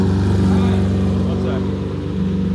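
Cold exotic sports car idling extremely loud, a deep, steady, throbbing exhaust rumble held close to the microphone while a person talks over it.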